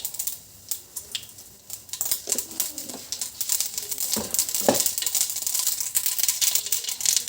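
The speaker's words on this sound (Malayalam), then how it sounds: "കടുകിടാ പൊട്ടട്ടെ." Mustard seeds popping and spluttering in hot oil, a dense run of sharp crackles and pops that builds after a quiet start and keeps going steadily.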